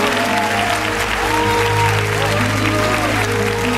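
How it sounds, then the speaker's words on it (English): Congregation clapping at a gospel church service, a loud continuous wash of hands mixed with sustained organ or music tones and crowd noise. "Somebody ought to really clap your hands."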